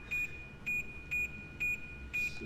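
A high electronic low-fuel warning beep in a flight game repeats five times at an even pace, each tone short and clear over a quiet low hum.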